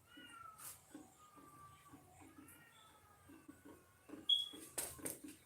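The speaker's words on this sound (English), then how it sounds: "Y'all hear the cats? There's 3 cats under my olive tree." Three cats under an olive tree meow and yowl in drawn-out, wavering cries, some overlapping, fairly faint and close, with soft knocks and rustles between the calls.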